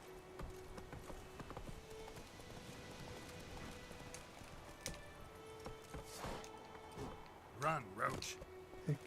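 Roach, a horse in The Witcher 3, clip-clops along in a quick galloping rhythm under steady rain-like background noise, with faint game sounds around it.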